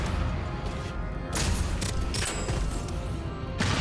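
Rocket blasts in the video game Deadzone: Rogue: several short, sharp explosive bursts over a busy game soundscape, with a couple of strong hits mid-clip and another near the end.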